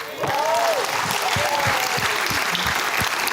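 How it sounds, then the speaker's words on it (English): An audience bursts into steady, full applause at a motivational talk and keeps clapping without a break, with a voice briefly rising above the clapping. "Give her a big round of applause"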